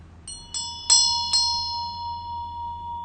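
A bell is struck four times in quick succession, each strike clear and ringing, the last tones hanging and slowly fading into a quiet room.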